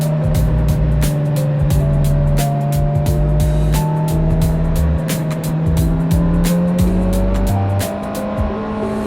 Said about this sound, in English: The exhaust sound of the four-cylinder is,